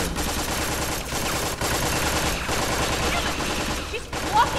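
Rapid gunfire from a Tales from the Borderlands shootout sequence rattles on loud and dense, with only brief breaks in the barrage.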